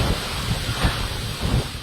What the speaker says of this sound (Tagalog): Ganito kalakas ang hangin